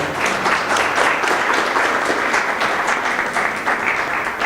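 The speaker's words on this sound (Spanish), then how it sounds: "Un aplauso, por favor." An audience at a Spanish-language conference applauds in a full, continuous wash of clapping that holds steady and loud throughout, with no voices on top.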